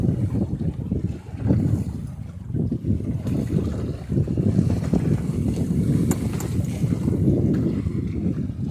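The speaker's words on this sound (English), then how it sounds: "There is a bit of a breeze too." A moderate breeze of about 10 to 12 mph buffets a sailboat on Broad Sound late in the season, constant gusty wind roar across the microphone with water and hull noise underneath, no voices.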